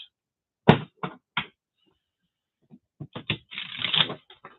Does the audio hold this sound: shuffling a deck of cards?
yes